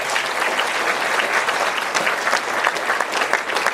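An audience at a Buddhist meditation lecture hall claps for the monks, producing dense, even applause of many hands, loud and close, with no one speaking over it.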